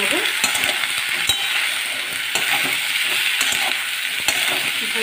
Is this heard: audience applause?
no